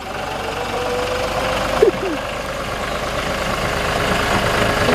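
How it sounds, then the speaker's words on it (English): A John Deere 5055 tractor fitted with a 553 loader runs steadily at a sawmill yard, its engine a continuous mid-low drone with a brief clank partway through. "You can do it 3 wheels on that John Deere."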